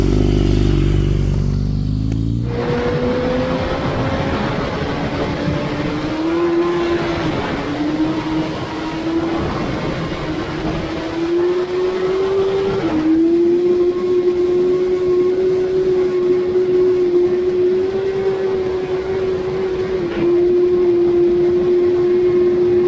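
A land speed racing motorcycle making a run on the Bonneville salt flats, its engine revving up sharply from the start and then holding a loud, rising, sustained whine through the gears.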